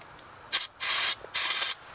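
Brake cleaner sprayed onto rear brake hardware of a 1992–2001 Toyota Camry: three close, sharp hissing aerosol bursts, each about a quarter to half second long, separated by brief quiet gaps.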